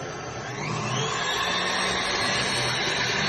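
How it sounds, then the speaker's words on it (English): A loud electric mixer whips eggs as sugar is added, whirring steadily close by, its motor droning and rising slightly in pitch as the beaters spin through the bowl. "I'm whipping the eggs and adding the sugar gradually."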